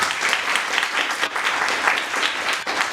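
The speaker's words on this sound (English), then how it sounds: "So give yourself a big clap." Steady applause from a student audience at a Swami Vivekananda Jayanti celebration, many hands clapping continuously at an even level for a few seconds.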